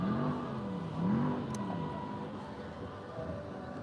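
Car engines rev and drone in the distance in Blackpool, a rising and falling whine over steady traffic rumble and outdoor background noise.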